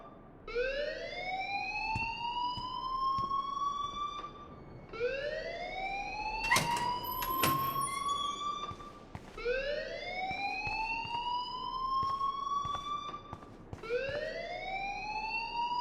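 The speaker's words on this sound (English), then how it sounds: "please turn off that alarm since that's your job" An electronic fire alarm in the video game Life is Strange wails in repeated rising sweeps, each tone climbing then cutting off, looping steadily with a few sharp clicks in between.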